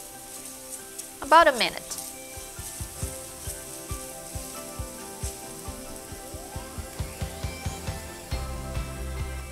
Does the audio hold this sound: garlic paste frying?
yes